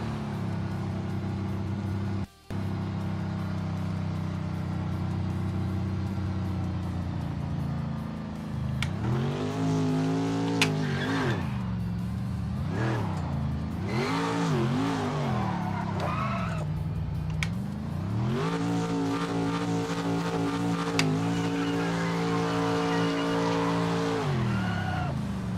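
A McLaren race car in Project Motor Racing drones with a loud steady engine, then revs repeatedly rise and fall through gear changes and shifts, heard continuously from outside the car without talk.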